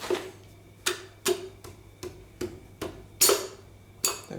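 A ball peen hammer end taps a piston ring into place on a 5.3 LS short block, about ten light metallic knocks at an uneven, deliberate pace, close and distinct with faint ringing after each strike.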